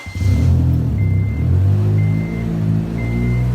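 A car engine runs up close with a steady, loud low rumble and slight swells in revs, while a thin electronic whine repeats in the background.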